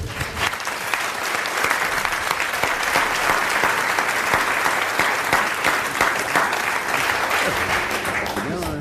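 Studio audience applause on a 1982 French television game show, loud sustained clapping from a big crowd with sharp individual claps standing out, steady for several seconds before tapering slightly.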